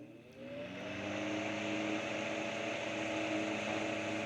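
An antique GE AO-V1 two-speed electric fan with brass blades and a Hershey Kiss base runs steadily on high, a close, loud motor hum with layered tonal whir that swells up in the first second, then holds even.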